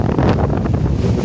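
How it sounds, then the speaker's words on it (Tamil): Strong storm wind gusts across a Sri Lankan beach during Cyclone Ditwah, a loud rough buffeting roar that batters the microphone with surf rushing underneath, no voices. "அப்படி காற்றடிக்கின்றார்"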